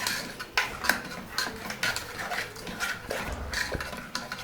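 A metal ladle mashes tomatoes into cooking tomato dal in a pot, giving repeated soft scraping clinks and wet squishes at an irregular rhythm, close and moderately loud.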